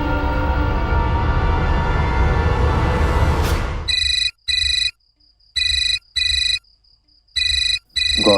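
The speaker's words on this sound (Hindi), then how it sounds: "गौरी का फोन।" A phone ringtone sounds in short, bright repeated bursts with silent gaps, ringing several times alone after a loud dramatic music sting fades out.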